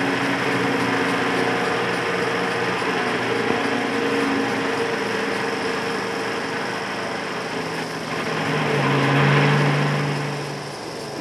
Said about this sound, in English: The 4x4 Scammell has no trouble with mud or bumps.